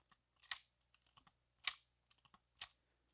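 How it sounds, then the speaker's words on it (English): A spring piece on a fake Lego Harley Davidson motorcycle set makes three crisp, isolated clicks at irregular intervals, with faint small ticks in between, heard close up in an otherwise quiet room. "it just makes a weird clicking noise"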